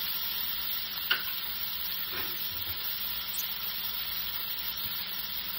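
Onions sizzle in sesame oil in a pan with a steady, moderate hiss. A couple of faint clicks of stirring come through, and no one speaks.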